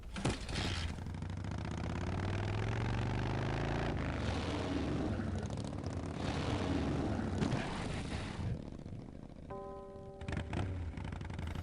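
Motorcycle engine from the video game Full Throttle, a steady loud droning roar holding for several seconds with a brief thunk near the start, ending in a short tonal beep.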